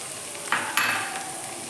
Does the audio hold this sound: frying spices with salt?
yes